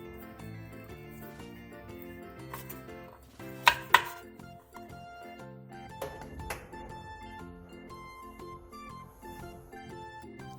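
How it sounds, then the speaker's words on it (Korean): A knife slices off the protruding end of a chili pepper stuffed into a hollow round fish cake, a couple of sharp cuts against a board, with steady background music playing. "끝부분이 어묵에 가득 찰 때까지 밀어준 뒤 삐져나온 부분은 칼로 잘라내주세요"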